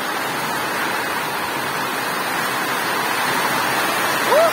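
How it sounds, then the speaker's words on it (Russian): Heavy downpour during a thunderstorm, a steady, loud, hissing roar of rain that holds evenly throughout with no break. "какой дождь сильный"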